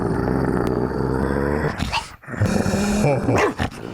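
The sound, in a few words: man imitating a growling dog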